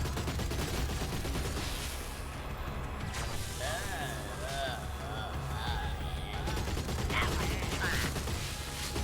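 A sniper creature in the Oddworld: Soulstorm video game fires in a sustained, loud volley of shots, mixed with crashes, mechanical clatter and warbling game effects, with talking over it.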